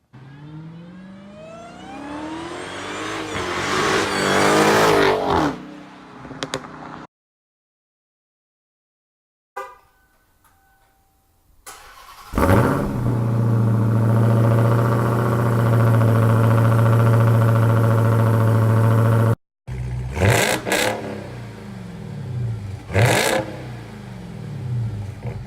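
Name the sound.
Dodge Charger Hellcat engine revving and accelerating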